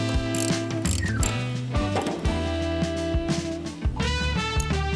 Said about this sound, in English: you want to go ahead and remove this T45 screw here that holds your forward saddlebag